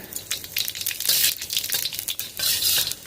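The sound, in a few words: bay leaves and cumin seeds sizzling in hot oil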